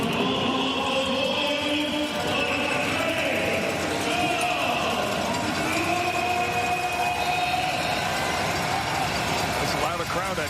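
A steady stadium crowd roar fills the stands at a 2025 CFL game between the BC Lions and the Toronto Argonauts, a continuous wash of noise with sustained horn-like tones, under play-by-play commentary.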